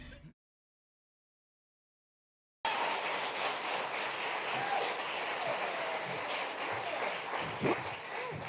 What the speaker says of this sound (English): That was such a nice round of clapping.